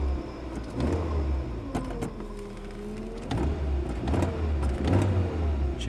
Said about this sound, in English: that's the cold start of the new car